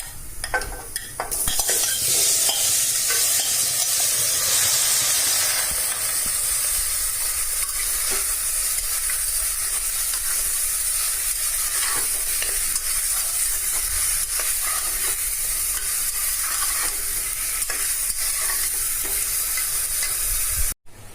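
Mutton fries in a pressure cooker pot with browned onions, a strong continuous sizzle broken by repeated scraping and stirring strokes of a spoon against the metal, close and steady throughout.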